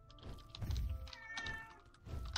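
A house cat meows softly several times, close by and faint, with a couple of dull thumps between the calls and no speech.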